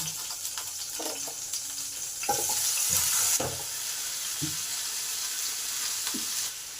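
Cut pumpkin pieces dropped into hot oil in a pan, a steady soft sizzle with a brighter burst of crackling midway, plus a few clinks of utensils, fairly quiet and close.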